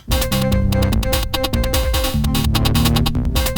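Fast, dense blast beat from a 16-bit drum machine, rapid hits over a steady low synth line, loud and continuous throughout.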